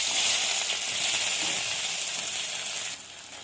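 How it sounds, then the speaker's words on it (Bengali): Chopped onion dropped into hot mustard oil seasoned with cumin seeds crackles in a dense, loud hiss that fades slightly before easing off near the end, without speech. "ফোড়নটা ভাজা ভাজা হয়ে গেছে, পেঁয়াজ কুচি দিয়ে দেবো।"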